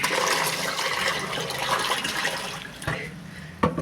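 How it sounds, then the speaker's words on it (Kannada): Water rushes steadily into a container while filling up for a bird-cleaning day, a continuous close hiss that eases slightly toward the end, with a couple of short knocks near the finish and no talking. "ನೀರು ತುಂಬಿಸಿದ್ದೀನಿ."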